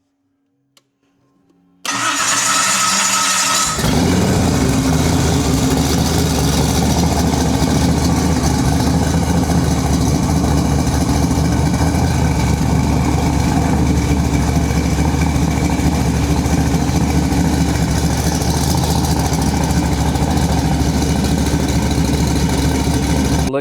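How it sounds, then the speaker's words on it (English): Car engine with an aftermarket Aces EFI system cranks briefly after near silence, catches and settles into a loud, steady idle held close for about twenty seconds without talk. "So now the engine, it will fire off."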